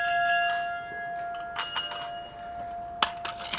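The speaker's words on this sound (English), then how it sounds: "I'm just going to try my best to ring them all" Small bells in a bell tower ring in bright, clinking strikes, first one clear sustained tone, then quick clusters of several rings, a pause, and another burst, with no talking.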